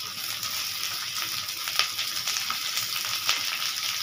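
Onions sizzling and frying in a pan while chow mein is cooked, a steady close hiss with occasional crackles and pops throughout.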